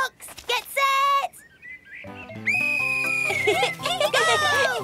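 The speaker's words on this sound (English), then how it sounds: "You can have a race and I can start you off with my whistle." A cartoon whistle is blown to start a race among young characters: a loud shrill tooting blast, followed by a long piercing whistle over excited high voices and lively music.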